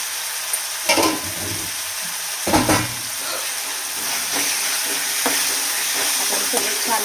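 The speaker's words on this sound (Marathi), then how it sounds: "आता टोमॅटो आहे त्याला आपल्याला छान परतून घ्यायचं आणि आपण ह्याच्यामध्ये हळद पण टाकायचं." Tomato with turmeric sautéed and stirred in a pan, giving a steady frying sizzle with repeated scraping stirs near the start and scattered spoon clatter throughout, no voice.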